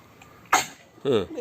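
Two short, harsh coughs a moment apart, close and fairly loud, the second a bit longer and rougher than the first.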